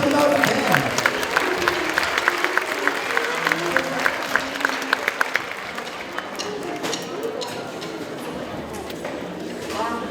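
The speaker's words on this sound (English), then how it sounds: "let's give them a round of applause." A school band concert audience claps for the Stoughton Band Boosters, a dense wash of applause with voices mixed in, strong at first and thinning toward the end.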